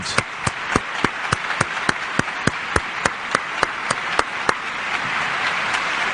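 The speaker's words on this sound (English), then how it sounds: "crowd here applauding for the wheeling of the chairs" Sparse, evenly spaced claps from a small crowd on a talk show, a dozen or so sharp distinct hand claps in a slow rhythm that fade out toward the end.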